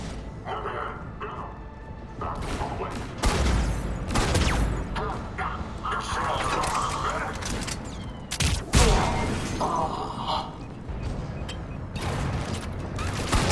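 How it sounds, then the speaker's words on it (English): Heavy cannon fire and battle machinery in the sci-fi shooter Mass Effect 3 on Omega, a dense continuous roar of rapid blasts and mechanical clanks with sharper booms near the middle, loud and close throughout. "Those cannons have to be stopped."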